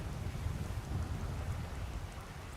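Rain pours down in the Skyrim video game around the town of Whiterun, with thunder rumbling through it as a steady, dense wash with low rolling undertones, and no talking.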